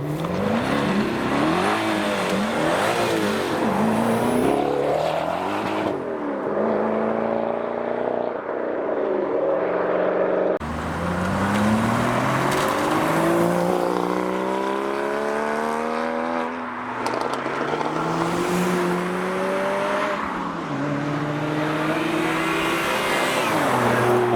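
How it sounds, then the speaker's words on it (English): Audi RS6 V10 engine revs and accelerates hard through rising gears, a loud, close roar with repeated upshifts and climbing pitch, no talking. "Here we go, RS6 V10."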